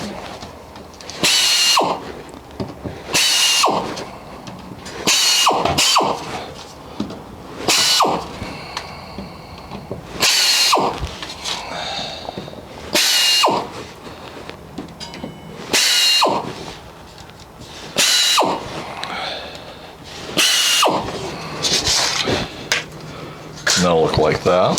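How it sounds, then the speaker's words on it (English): A power drill bores holes in aircraft access panels for a Zenith 701, with repeated short loud bursts of whining drilling separated by brief pauses and workshop clatter in between. "we're going to drill our center hole"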